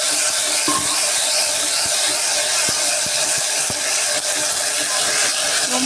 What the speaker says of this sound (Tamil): இப்போ வந்து அந்த கீரை அதில் சேர்த்துக்கலாம். சேர்த்துட்டு லேசாக வதக்கலாம்.